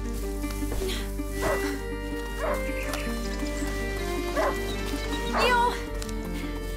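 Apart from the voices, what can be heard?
hunting dog barking and whimpering in video game A Plague Tale: Innocence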